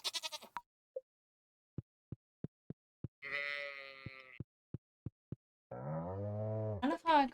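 Sheep bleat in a modded Stardew Valley farming game, several drawn-out cries alongside a steady series of short, evenly spaced clicks, with brief quieter sounds at the start.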